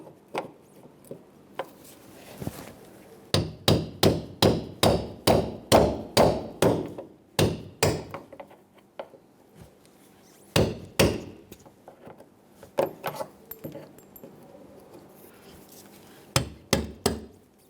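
A hammer and cold chisel knock rivet heads off a 1999-2025 Ford E-350 Super Duty front door, making a close series of sharp metallic blows in quick rhythmic runs with pauses between them and no talk.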